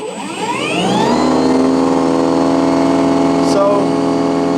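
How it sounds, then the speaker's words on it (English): A Snow Joe 24V-X2-SB22 cordless electric snow blower spins up its auger, rising quickly into a loud, steady whirring drone with a strong tonal whine that holds at full speed, close to the listener. "the whirling of that auger definitely isn't quiet"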